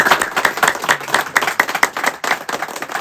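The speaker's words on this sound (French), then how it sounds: "et l'assistance puisse l'applaudir" An audience at a medical director installation ceremony applauds, dense close clapping from many hands running steadily throughout, with no talk over it.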